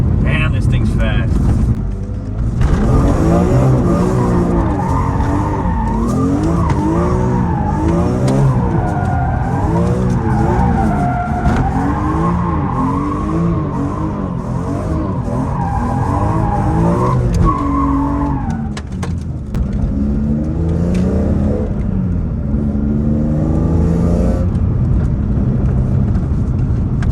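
A Dinan BMW E46 M3 on new 275 tires is driven hard, its engine revving up and down in long sweeps with tire squeal, loud and close, while people talk over it.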